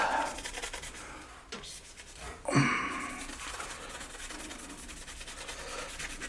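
A cloth or pad rubs a few drops of cleaning liquid around on a PC part for an AMD 7950X build, giving soft close scrubbing and swishing strokes with one louder swipe midway.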